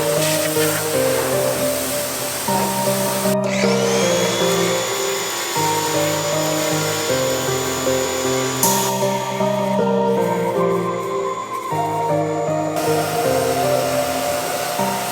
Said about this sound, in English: But first, let's start pressure washing.